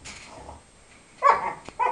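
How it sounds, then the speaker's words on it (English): A young dog lets out short, throaty play growls and grumbles in a couple of bursts while mouthing during play, with quieter rustling between them. "So you just see a lot of mouthing and play growling."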